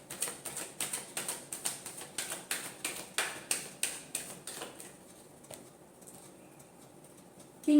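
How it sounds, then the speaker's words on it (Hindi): Tarot cards shuffled by hand in a rapid run of crisp riffling bursts, about eighteen in close succession, nearby and moderately loud, then quiet. "last shuffle"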